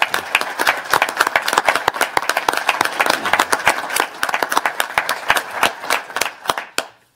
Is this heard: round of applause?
yes